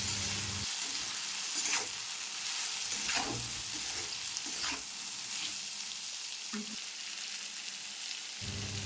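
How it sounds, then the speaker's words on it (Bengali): Fried egg being stirred into vegetables with green chilli and salt in a pan, a steady sizzle broken by several scraping spoon strokes, close and moderately loud with no voices. "এবার ডিম ভাজি দিয়ে সবজির সাথে মিশিয়ে নেব।"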